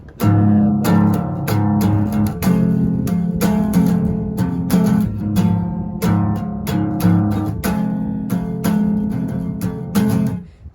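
An acoustic guitar plays the intro of a song, plucked notes ringing out steadily in a clear repeating pattern, close and fairly loud with no voices.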